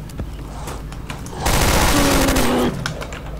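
Sustained automatic gunfire from the Radiophobia 2 mod shooter game, a loud, dense burst lasting over a second that cuts off abruptly, with quieter game ambience before and after.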